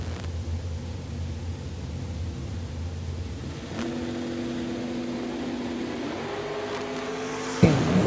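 Drag racing vehicles, including a GMC truck, at a Woodburn, Oregon meet: a steady engine drone holds, then a tone rises as revs climb, and a sharp burst near the end marks a launch, all heard from a distance.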